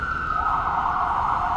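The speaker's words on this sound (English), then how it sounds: "I gotta compete with the sirens." Emergency vehicle siren on a New York street near Zuccotti Park, a loud continuous wail that sweeps up in pitch and holds, close and alone.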